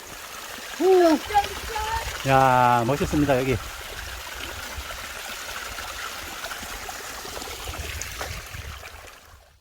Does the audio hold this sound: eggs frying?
no